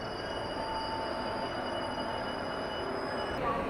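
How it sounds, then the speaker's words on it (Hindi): The Bihar Sampark Kranti Express, hauled by a WAP4 electric locomotive, rolls along the line near Samastipur in Bihar. A loud, steady rumble fills the whole stretch with a continuous high squeal of wheels on rail and no voices. "WAP4 लोकोमोटिव लीड कर रहा है इसे।"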